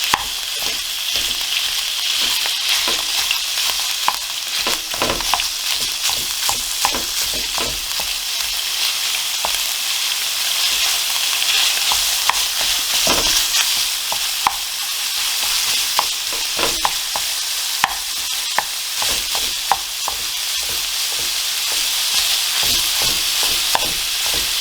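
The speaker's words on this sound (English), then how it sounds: "And we'll fry it off until it is nice and brown." Ground pork sizzling hard in a hot pan while being broken up for Asian-style spicy pork noodles, a steady loud crackle with frequent scraping and tapping of a utensil throughout, no voices.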